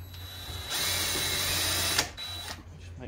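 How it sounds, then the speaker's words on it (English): A power drill drills pilot holes in a boat trailer fender guard, whirring steadily for over a second, revving up, stopping abruptly, then a brief second burst follows, close and loud with no talking. "I have to drill me some pilot holes with these screws"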